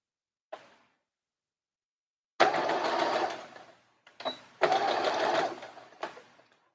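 A sewing machine stitches through layers of fabric for a dress in two close, fast-running bursts of about a second and a half each, with a soft click before and between them.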